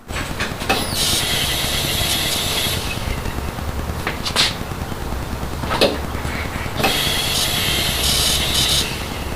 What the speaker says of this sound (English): Now I'm going to go and turn the pump on and look for a leak